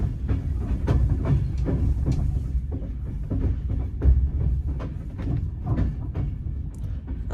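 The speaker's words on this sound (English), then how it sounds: "we're pulling into Manchester Piccadilly" A train pulling into Manchester Piccadilly station, heard from on board as a steady, loud low rumble with a repeated clickety-clack of wheels over rail joints, continuous and without talk.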